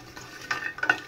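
Pumpkin bori (sun-dried lentil dumplings) frying in oil give a soft, low sizzle, broken by a couple of light utensil clinks and scrapes as they are stirred; no speech.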